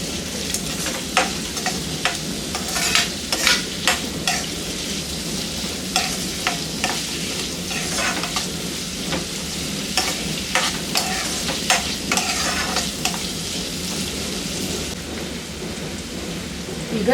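Ground turmeric frying in oil on a low flame, a steady hiss with repeated light scraping and stirring ticks throughout, close and continuous with no voices.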